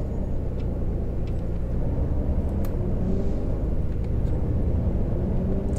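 A MAN Lion's Coach bus pulls away in Fernbus Coach Simulator, on an Austria route. Its steady engine rumbles low and constant throughout, close and even, with no talk.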